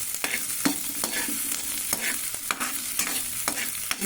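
Chopped onions sizzle in a pan as part of a vegetable soup, with a steady broadband fry and repeated scraping strokes of a stirring spoon at an irregular rhythm, close and fairly loud, no voices.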